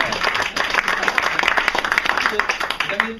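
A theatre audience applauding at a comedy show, with dense, lively clapping sustained throughout and voices faintly mixed in near the end.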